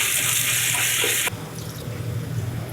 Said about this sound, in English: So you want to quickly give it 2 rinses and throw away the water.